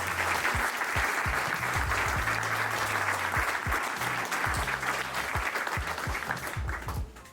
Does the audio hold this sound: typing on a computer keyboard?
no